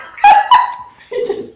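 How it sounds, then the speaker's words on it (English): Short burst of high-pitched puppy yelps and whimpers playing from a video of a screaming puppy, three quick cries heard close and loud. "Dog. We're watching a video"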